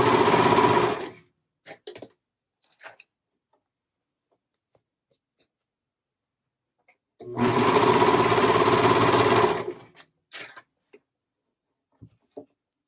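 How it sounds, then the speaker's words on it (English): A serger overlocks the seams of a crew neck sweatshirt in two loud, steady bursts of a couple of seconds each, with quiet clicks and handling sounds in between. "make sure they're all lined up and that you are serging through your thread worms."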